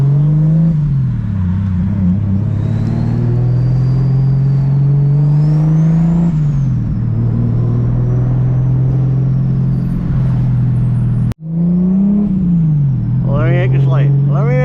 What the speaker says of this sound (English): It's a Lexus, and it's making 600 horsepower and daily like a normal freaking car.